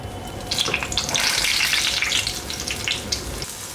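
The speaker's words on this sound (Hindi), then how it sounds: "तो इस तरह से भी आप वड़े को फ्राई कर सकते हो" Dahi vada batter dropped from a spoon fries in hot oil, a bright, bubbling sizzle that swells and stays fairly loud and close for a few seconds.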